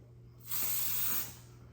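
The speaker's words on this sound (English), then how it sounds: "That joint spraying like a fire extinguisher." A Lattafa body spray can releases one steady, loud hissing burst lasting under a second, close by, against a low background hum.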